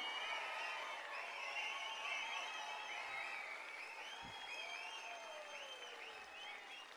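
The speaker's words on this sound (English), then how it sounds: "Whatever you just did in terms of clapping and whistling" A school audience claps and whistles together continuously, with many sharp rising and falling whistles riding over dense clapping. The sound is steady and fairly distant.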